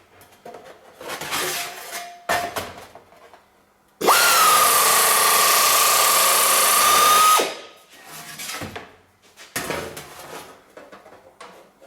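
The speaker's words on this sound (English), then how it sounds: "I'll cut the main piece off with this, and then I'll just grind it a little bit." A power tool cuts and grinds a metal wing panel on a rebuilt 1930s barn-find wreck, a close, loud, steady high whine for about three seconds, framed by quieter scraping and handling noises.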